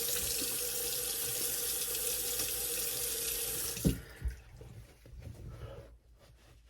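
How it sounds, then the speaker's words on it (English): A tap runs in a sink with a steady hiss as someone rinses off after a shave, then shuts off into a few faint drips and splashes. "so let's rinse off and we'll finish up"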